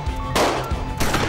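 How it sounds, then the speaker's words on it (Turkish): Gunfire from a street shootout crackles in a couple of sharp, loud bursts within a second or so, set against a low background rumble. "Silah sesleri abi."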